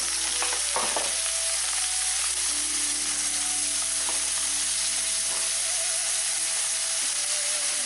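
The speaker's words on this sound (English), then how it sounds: "add a glug of oil to your pan, and then it's in with your pork mince" Pork mince hits hot oil in a pan and fries with a loud, continuous, close sizzle that holds steady throughout, marked by a few brief stirring clatters near the start, with no voices.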